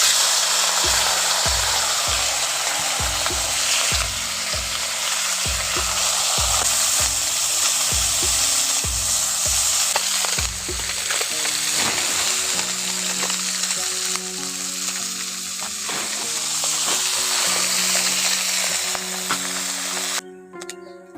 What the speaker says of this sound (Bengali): এখন উলট পালট করে মাছগুলোকে ভালো করে ভেজে নিয়েছি